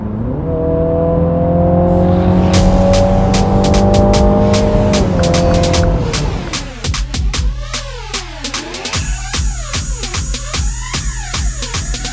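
A 306-horsepower MINI JCW Clubman engine roars loudly and steadily, then shifts through gears with sharp revving rises and drops as the car drives hard nearby.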